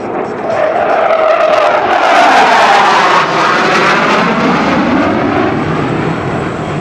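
An F-111 jet aircraft flies a display at the Singapore Air Show, a loud, continuous roar of jet engines with a shifting whine that stays strong and close for several seconds.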